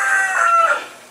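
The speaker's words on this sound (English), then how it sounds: "Look, here comes the chicken" A farmyard rooster crows once, a short strained call near at hand, fading at the end.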